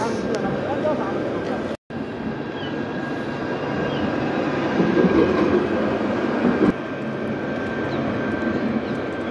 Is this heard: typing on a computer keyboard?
no